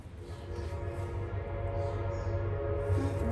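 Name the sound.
train passing by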